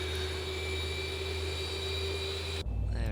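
Boeing 737 jet engine spooling up in the X-Plane 11 flight simulator, heard from outside the aircraft: a steady, loud whining roar with a high tonal hum that abruptly shifts to a deeper, rougher rumble near the end, no talking.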